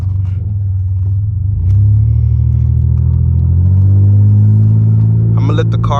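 A muffler-deleted Pontiac Grand Prix GT engine rumbles close by with a deep, steady drone that swells and grows louder after a couple of seconds, and a voice briefly cuts in near the end.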